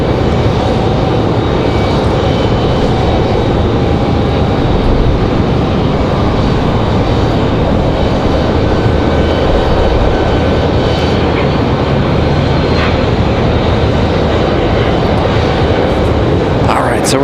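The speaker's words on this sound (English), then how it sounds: "That Delta following in JetBlue" Jet airliners, a Delta following a JetBlue, roar steadily at Raleigh-Durham airport, a loud, unbroken engine rush that holds at full level throughout, with a person talking over it.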